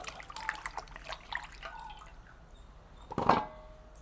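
Potatoes are rinsed in water in a kitchen, with soft splashes and drips at first, then a quieter stretch and one louder close slosh near the end.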